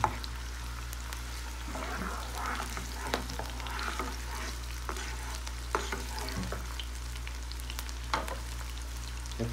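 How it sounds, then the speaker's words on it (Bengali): Chopped green chillies frying in a pan for a morning egg breakfast, a steady gentle sizzle with sharp scraping stirs from a spatula at intervals, close and without speech. "তারপরে লঙ্কা কুচি দিয়ে দেবো, একটু সামান্য একটু নেড়ে দেবো হালকা"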